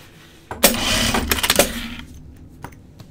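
Sewing machine tacking fabric and stiffener, a loud close burst of rapid stitching that lasts over a second, followed by a few faint clicks and handling sounds.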